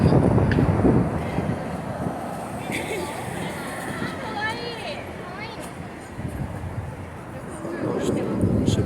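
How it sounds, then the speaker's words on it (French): Wind buffets a handheld microphone outdoors in Tokyo at night, a steady low rumbling roar throughout, with faint crowd babble in the background and a voice talking now and then. "Il y a du vent"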